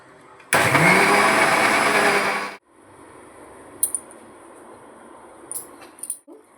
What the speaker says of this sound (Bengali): এবার আবার মিক্সিতে ঘুরিয়ে নেব